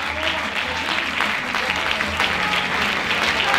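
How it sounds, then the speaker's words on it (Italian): Audience at a Christmas music, dance and theatre show applauding a performer, steady clapping from a large crowd with a faint voice underneath. "Grandissimo applauso"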